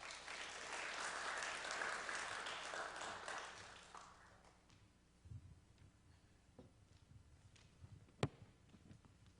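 Church congregation applause, a dense wash of clapping that fades out after about four seconds, leaving a quiet room with a few faint taps and a sharp click.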